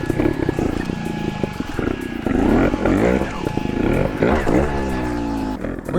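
A trial motorcycle engine revs hard in repeated bursts as the bike climbs an obstacle, close and loud, with rising and falling throttle sweeps and a short pause near the end.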